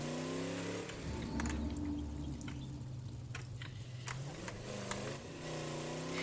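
A car engine in State of Decay 2, driven through open territory, hums and revs steadily with shifting pitch and a few splashing, dripping noises, moderately loud with no talk over it.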